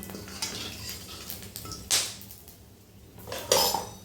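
Whole garam masala is stirred in hot oil in a pan, with metal spoon scrapes and clinks against the vessel over a low frying sizzle, close and without speech.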